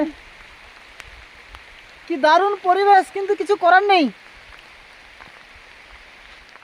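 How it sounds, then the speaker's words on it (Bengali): Steady rain hisses outdoors at the Daringbari hill area in Odisha, continuing evenly throughout while a person speaks briefly in the middle. "বৃষ্টির মধ্যে মোবাইল ভিজে যাচ্ছে"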